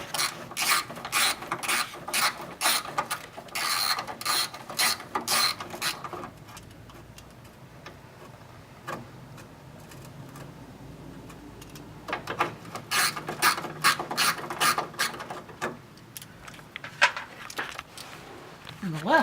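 A hand ratchet loosening bolts on a 1990-2005 Mazda Miata, heard as close bursts of rapid clicking ratchet strokes, a quieter pause in the middle, then more clicking, with a person talking at times.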